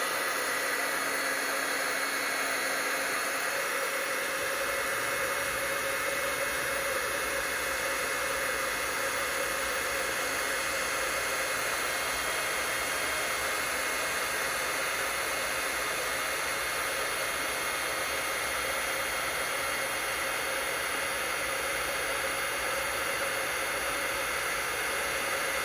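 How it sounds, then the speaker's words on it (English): A heat tool blows steadily on embossing powder on a paper heart, giving a loud, constant fan roar with a hissing edge that runs without a break from start to finish. "we're just going to heat up this heart so the powder sets"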